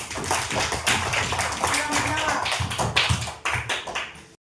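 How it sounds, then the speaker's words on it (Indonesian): Students in a classroom applaud, a dense burst of clapping with voices mixed in, loud and close, running for a few seconds before cutting off abruptly. "tepuk tangan untuk Hafiz."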